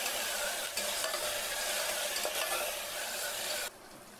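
Ginger garlic paste frying in a hot pan for pepper chicken gravy, a dense, steady sizzle close by with light stirring scrapes, cutting off abruptly near the end.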